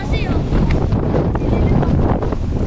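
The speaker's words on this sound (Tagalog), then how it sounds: "Grabe naman yung hangin." Strong wind buffets the microphone outdoors at Nagashima Spa Land in Japan, a loud, steady, low roaring rumble that continues for the whole stretch with only small gusting swells.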